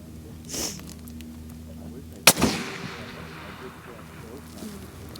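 A long-range precision rifle shot fired at an 800-yard target cracks sharply once, followed by a brief rolling echo under light wind noise outdoors.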